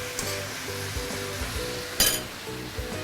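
Seasoning sizzling in a hot pan while pork leg stew is cooked, a steady bright fry hiss with a few soft clinks, and one louder sizzle burst midway.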